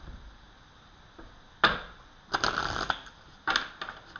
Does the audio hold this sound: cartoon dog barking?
no